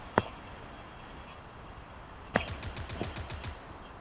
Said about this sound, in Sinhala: එළියේ ඉඳන් වෙඩි තියන චණ්ඩි.